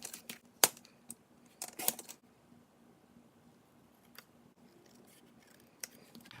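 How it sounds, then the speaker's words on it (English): A paper trimmer cuts scrapbook paper in straight lines: a few sharp, quiet snips and clicks spread out over a hushed background. "I'm using the trimmer to cut this out because it is straight lines."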